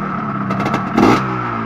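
A Yamaha RXZ motorcycle engine runs close by with a loud, steady idle and a brief rev swelling in the middle of the short stretch, its exhaust a single-layer pipe.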